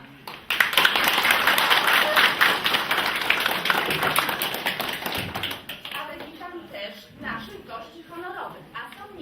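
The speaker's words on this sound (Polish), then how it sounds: "tu poproszę o duże brawa" A crowd applauds at the opening of a folk festival of storytellers, poets and singers in a community cultural hall, with dense sustained clapping that fades after about six seconds as a voice begins speaking.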